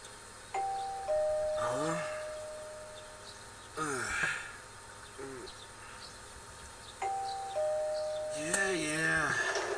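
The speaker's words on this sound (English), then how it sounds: "Is that a doorbell?" A doorbell chime in the Persona 4 video game rings twice, each followed by game voice sounds and a soft background hum.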